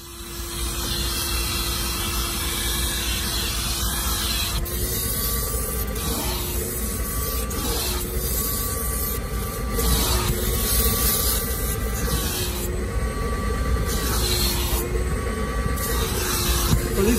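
Carpet extractor sprays and sucks across a dirty seat in repeated hissing passes, each stroke rising and falling against a constant motor whine, close and steady.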